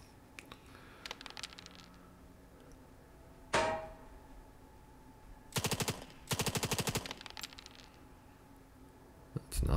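Enemy gunfire in the war strategy game Valor & Victory: scattered single shots and a sharp crack, then two rapid machine-gun bursts near the middle, loud against a quiet background with another burst starting at the end.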